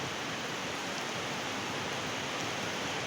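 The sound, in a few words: heavy rain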